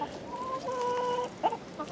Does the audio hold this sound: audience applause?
no